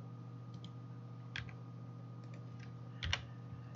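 Soft, quiet computer keyboard key presses, a few scattered clicks with two slightly louder taps, over a steady low background hum.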